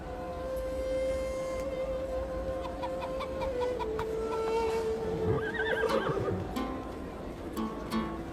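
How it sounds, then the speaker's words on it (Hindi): An Arabian horse waits to race, its neighing and whinnying rising over a busy outdoor scene with hoof clip-clop and distant fowl clucking, all in a steady ambient din. "वो मेरा अरबी घोड़ा दौड़ के लिए इंतजार कर रहा है।"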